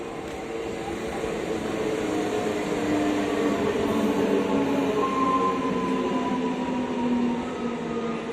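A train rumbles steadily at a railway station platform, a continuous loud drone with faint tonal hum, no voices.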